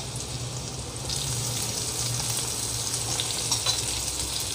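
Garlic and green chillies sauté over a low flame in a pan for gobhi manchurian, with a continuous bright sizzle that strengthens after a moment, close and crackly, with faint stirring and no talking.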